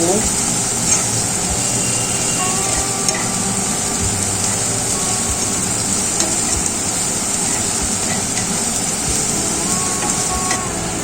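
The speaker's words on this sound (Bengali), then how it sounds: "প্রায় এক মিনিটের মতন এটাকে ভাজা ভাজা করে নেব" Cabbage frying in a pan makes a constant, even sizzle close up, with faint scraping and a few light knocks scattered through, running uninterrupted.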